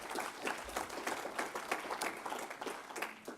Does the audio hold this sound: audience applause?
yes